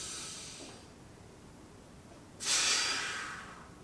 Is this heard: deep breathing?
yes